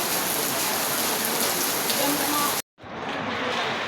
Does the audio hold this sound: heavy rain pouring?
yes